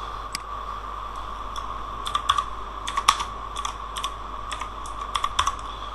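A computer keyboard being typed on to enter a search, with short bursts of crisp clicks that come in irregular clusters, close up and clear over a low background hum, and no voices.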